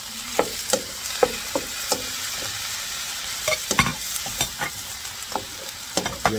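Shrimp go into a hot pan for a seafood pasta in tomato garlic basil sauce, giving a low steady sizzle broken by sharp clicks of a utensil stirring against the pan, close and without talk.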